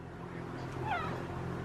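A house cat meows once, a short, faint rising-and-falling call partway through, over a steady low background hum.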